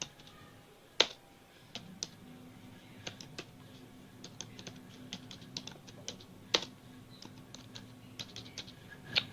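Keystrokes on a computer keyboard, irregular clicks with a few louder taps over faint room hum, typed alone without talk.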